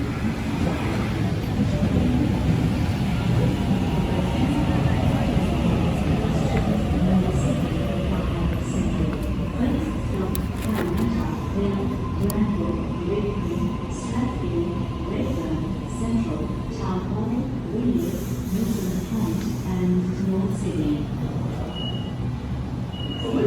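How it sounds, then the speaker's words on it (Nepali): A train pulls into a station platform, a loud continuous rumble with a slowly falling motor whine and brief high squeals of braking. "ट्रेन आइहाल्यो फेरि।"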